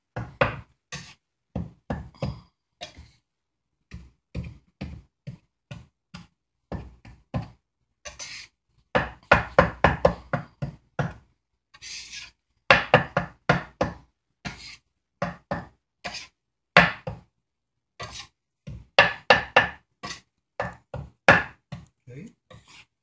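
Butter being cut into flour for biscuit dough gives repeated dull knocks and taps against a bowl or board, coming in irregular bursts with pauses.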